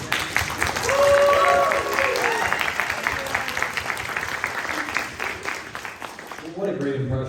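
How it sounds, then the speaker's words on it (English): A Comic Con Q&A audience at NYC breaks into a sustained round of applause, dense clapping swelling early then continuing steadily before tapering off, with voices mixed into the crowd noise. "I just want to give her a round of applause."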